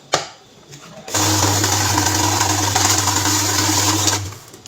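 A currency counting machine runs through a stack of mixed banknotes, a steady whirring mechanical rush that starts abruptly after a short click and holds evenly for about three seconds before cutting off, with a low motor hum underneath.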